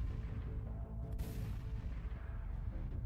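Gunfire in the video game After The End: The Harvest comes through as faint, muffled low booms over a rumbling bed, with one sharper crack early on.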